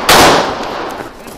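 A single loud, close gunshot during a vehicle combat training drill, a sharp crack followed by a short decaying echo.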